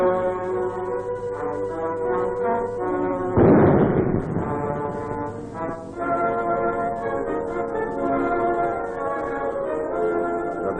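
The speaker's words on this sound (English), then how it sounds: "25 pounder guns shell the enemy's positions." A 25-pounder artillery gun fires on enemy positions, giving one heavy, broadband boom that rises out of steady orchestral music and fades back under it.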